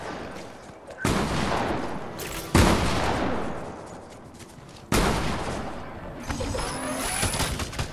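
Gunfire in Fortnite, three loud, sharp blasts spaced a couple of seconds apart, each trailing off into a long decaying echo, with scattered smaller shots near the end.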